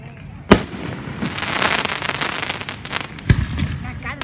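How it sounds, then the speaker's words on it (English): Fireworks bursting at night over an Indian temple: two sharp, loud bangs about three seconds apart, with a dense crackling shower of sparks filling the gap between them and people chatting nearby. "First time you saw firework."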